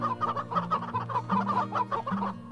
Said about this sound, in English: I really don't know how I feel about royal chicken.